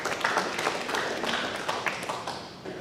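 Audience at a Cloverdale District Chamber of Commerce forum claps in a modest, fairly quiet round of applause, a steady patter of scattered hand claps heard from a distance that tapers off near the end.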